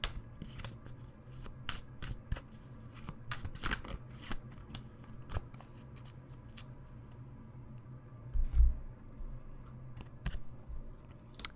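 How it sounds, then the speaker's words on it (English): Tarot cards being shuffled give off repeated soft riffling and sharp card snaps at an irregular pace, close and fairly quiet, with a low background hum underneath. "So let's get a few more tarot cards."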